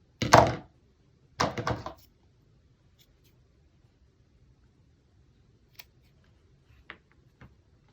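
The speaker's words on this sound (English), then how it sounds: "so I'm going to just trim it off." Two quick scissor snips trimming thistle craft material, close and fairly crisp, followed by a few faint small clicks in near silence.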